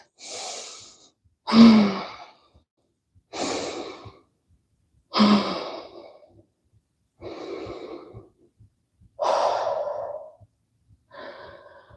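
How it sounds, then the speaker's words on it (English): Heavy breathing from a person recovering after leg exercises: about seven loud, separate breaths with deep inhales and sighing exhales, evenly spaced with short silences between them. "I gotta catch my breath for a second. Breathe in through your nose."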